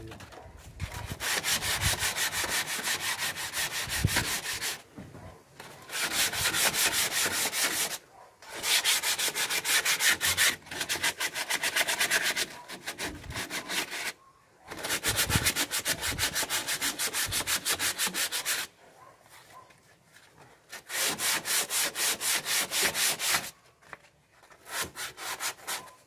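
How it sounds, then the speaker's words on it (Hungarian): Wood being sanded during a trailer renovation: loud, close rasping strokes in long bursts of a few seconds, separated by short pauses, with no talk. "és akkor így elkezdjük a csiszolást"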